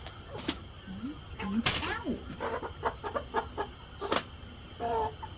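Several Cornish cross meat chickens cluck and squawk nearby in short bursts, with a few sharper calls standing out over a quiet background.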